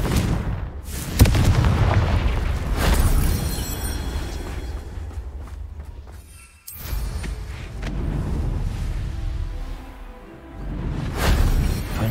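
Confringo fire spell explosions in the Hogwarts Legacy video game burst out as several heavy booms, each with a sharp onset and rumbling tail, separated by brief quieter gaps, close and dense.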